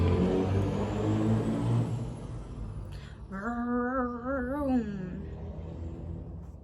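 Outside, a loud vehicle rumbles past, its engine noise fading before a close tonal whine rises and wavers for a couple of seconds, then dies away.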